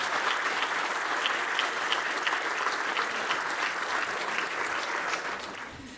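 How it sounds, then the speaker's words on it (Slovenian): Audience applause for award winners at a gala marking 35 years of an academy, a dense, steady wash of clapping that holds loud throughout and eases off slightly at the end. "Še en krepek aplavz za vse nagrajence,"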